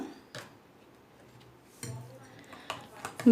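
Ingredients for Bengali rui fish paturi being mixed in a bowl, a few short, close clinks and scrapes of a utensil against the bowl, sparse at first and then quicker toward the end.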